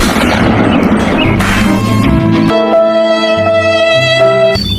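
A toy gun fires a run of electronic shooting effects, sharp synthetic bangs and a whining tonal sweep, loud and close with no talk.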